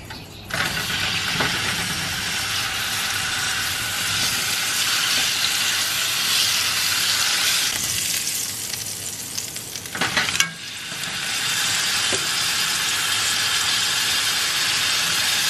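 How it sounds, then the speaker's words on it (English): Steak sizzling steadily in hot oil in a pan, a loud, continuous broadband frying hiss with occasional sharper spatters and a brief clatter near the middle, no talking. "Start off my steak in oil, and then when I'm gonna flip it over to the other side"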